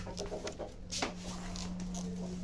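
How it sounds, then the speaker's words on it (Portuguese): Chickens clucking in a yard, a few short clucks repeating irregularly over a steady low hum and background noise. "essas galinhas não me deixam gravar"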